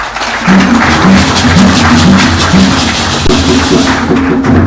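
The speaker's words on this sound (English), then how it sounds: "Can we clap for ourselves, please?" Ghana Black Stars players applaud at the Jubilee House, a loud, sustained round of clapping from a group, with a low tonal hum running beneath the claps throughout.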